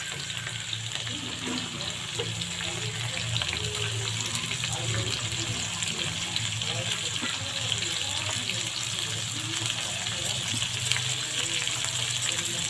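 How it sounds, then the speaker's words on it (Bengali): Onion, tomato and green chili frying in hot oil in a kadai for a spicy sea bata fish curry: a steady, close hiss and sizzle that runs the whole time, with faint stirring scrapes underneath. "এর মধ্যে আমি পেঁয়াজ টমাটো কাঁচা লঙ্কা এগুলো তুলে দিচ্ছি"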